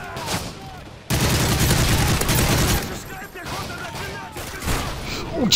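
Dense gunfire in the Call of Duty MW3 survival mode: a sustained rapid burst of automatic shots, then scattered further shots and blasts, loud and close, with a voice briefly heard.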